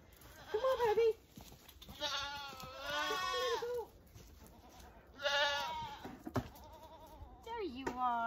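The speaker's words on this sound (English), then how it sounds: "Come on, little goat." Goat on a farm bleating several times in loud, wavering calls close by, with a person speaking softly between the cries.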